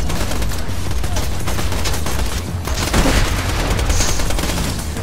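Dense gunfire from the shooter game Borderlands 2, rapid overlapping shots and bursts that run without pause over a loud, busy battle backdrop, with a heavier boom near the middle.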